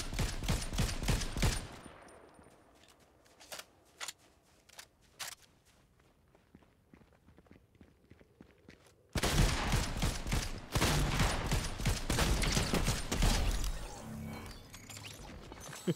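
Fortnite shotgun shots: a rapid string of sharp blasts, then scattered isolated shots and footsteps during a quieter stretch, and then a dense, loud volley of gunfire with mechanical clatter.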